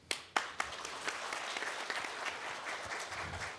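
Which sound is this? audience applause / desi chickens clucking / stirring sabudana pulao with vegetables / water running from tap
audience applause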